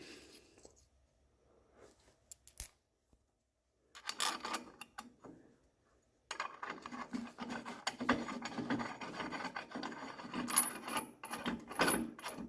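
Small metal washers drop and clatter in a garage while work goes on on a 1990 GMC Sierra pickup, giving sparse light metallic clinks and rattles, a sharp one early and a busier run of tinkly handling noises later, close and fairly quiet.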